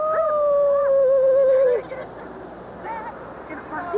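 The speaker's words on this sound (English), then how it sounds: "Boy, he's a good dog." A dog howls nearby in a long wavering call that then breaks into shorter yips and whimpers, with a voice around it outdoors.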